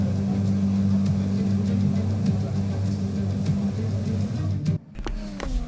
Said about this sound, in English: Max Verstappen had an engine failure in qualifying.